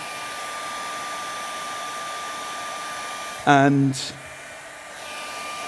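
A hair dryer drying a watercolour painting, a steady, close whirring blow with a constant whine that runs throughout, briefly interrupted by a short spoken word.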